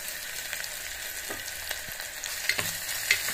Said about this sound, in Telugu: ఉల్లిపాయ ముక్కలు వేయడానికి ఉప్పు వేసుకుంటే త్వరగా వేగుతాయి.